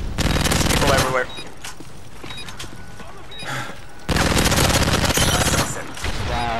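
Sustained heavy automatic gunfire in Call of Duty: Modern Warfare 3 multiplayer, long loud bursts close by with a quieter pause between, while a player talks over it.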